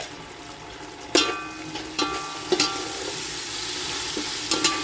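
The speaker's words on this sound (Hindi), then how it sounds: "थोड़ी देर भून लेंगे, कच्चापन इसका चला जाए।" Ginger garlic paste and onions sizzling in a pan while being stirred, with a steady frying hiss broken by several sharp clanks of the spoon against the pan.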